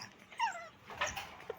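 A dog gives a couple of faint, high, quavering whimpers and a short yip, close by but quiet, with no talking.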